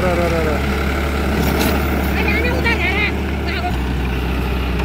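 A tractor ploughing a farm field in Dang, Nepal produces a loud, steady engine drone, with a voice talking over it.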